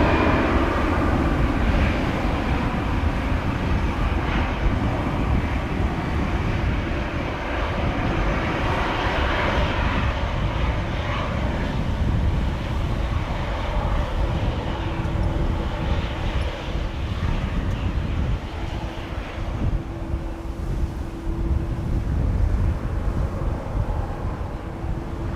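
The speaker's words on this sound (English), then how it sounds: "KLM 737-700 to Munich, flight 1851." A KLM Boeing 737-700 bound for Munich departs Amsterdam Schiphol on a windy day, its jet engines a loud sustained roar that builds and swells steadily over the whole stretch.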